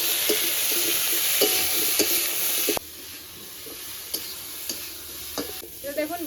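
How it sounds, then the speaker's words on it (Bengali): Seed banana pieces with slit chilies and salt hit hot oil in a pan, giving a loud steady sizzle that drops abruptly midway, followed by quieter frying with scattered stirring scrapes and clinks. "এবার ওই একই তেলে এই বিচিগুলো বিচি কলা যে কেটে রেখেছিলাম আগে থেকে সেটা দিয়ে দেবো লঙ্কা চেরা মতো লবণ গুঁড়ো দিয়ে এবার একটু হালকা করে ভেজে নেবো"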